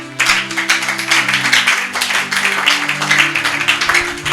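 Congregation applauding during a French-language church sermon on Old Testament teaching, a steady wash of many hands clapping close by for several seconds, with faint organ or keyboard chords sustained underneath.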